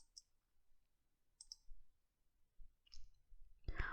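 A computer mouse clicks several times, sharp isolated ticks spaced about a second apart in a quiet room, ending with a slightly louder clunk.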